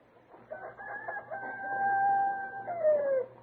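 A rooster crows repeatedly in a long, drawn-out call that sweeps down at the end. It is heard outdoors in a yard, at moderate distance, over a low steady background hum.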